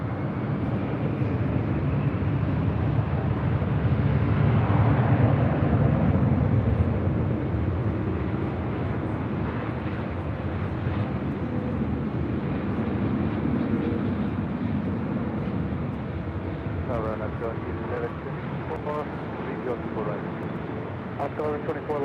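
Jet airliner taking off at LAX, a loud sustained engine roar that swells and slowly fades as the aircraft departs, with faint radio chatter toward the end.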